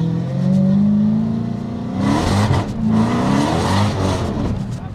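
An 800bhp Dodge Challenger Hellcat engine revs hard in the snow, climbing in pitch, dropping back, then roaring up again in loud repeated bursts close by.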